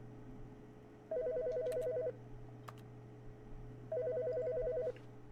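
A telephone rings in The Stanley Parable, two clear electronic ring bursts of about a second each, separated by a pause, over a steady low hum with no talking.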